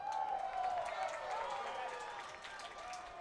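Faint crowd cheering at a women's college soccer match between Chapman and Milwaukee School of Engineering, a distant swelling murmur under a commentator's steady talk.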